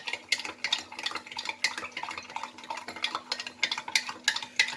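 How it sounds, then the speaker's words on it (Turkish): A spoon stirs köfte mixture with a little added water in a bowl, giving a quick, regular run of wet scraping and clinking strokes, close and fairly quiet, with no voices. "Yine güzelce karıştırıyorum."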